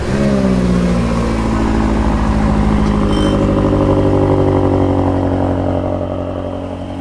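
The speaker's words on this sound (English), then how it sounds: "we're about to start up the world's most expensive series production BMW" A BMW M8 First Edition starts and settles into a loud, close idle, a deep steady engine rumble with a rich layered tone that holds evenly and eases slightly toward the end.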